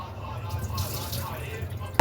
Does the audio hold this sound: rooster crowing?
no